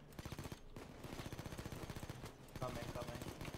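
Gunfire in the video game Payday 2, sustained rapid automatic shooting with dense, overlapping shots that surge louder near the end, mixed with game noise.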